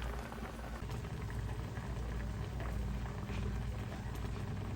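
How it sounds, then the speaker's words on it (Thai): Mackerel simmering in a pot of water for Thai fish curry, a steady continuous bubbling and rolling boil heard close and evenly throughout, with no talking. "ต้มประมาณ 10-15 นาทีค่ะ"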